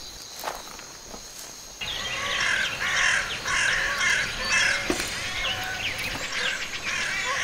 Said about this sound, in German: Was ist bloß mit den Vögeln los?